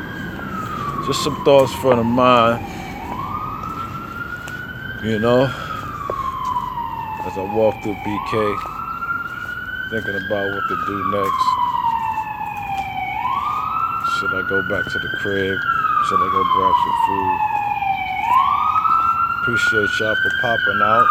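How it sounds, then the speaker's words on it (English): A police or emergency vehicle siren wails in repeated rising and falling cycles on a street in Bed-Stuy, Brooklyn, loud and continuous while someone talks as he walks. "Sorry for the sirens."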